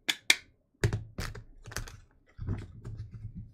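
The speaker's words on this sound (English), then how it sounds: "I'm just shuffling my card deck to get it ready for the next person." A deck of tarot cards being shuffled in close quarters, giving quiet, clustered riffles and soft slaps that come in short bursts broken by brief pauses.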